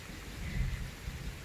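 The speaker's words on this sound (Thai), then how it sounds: "ฝนก็ตกแล้วนะคะตกโปรยมาแล้ว" Light rain drizzles down at a banana plantation while a low rumble of thunder rolls underneath, a steady wash of soft hiss with no voices.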